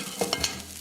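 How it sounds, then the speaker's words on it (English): Balsamic vinegar deglazing in a hot pan gives a soft sizzle with a few short stirring scrapes, fairly quiet and close. "Give that a little bit of a sizzle."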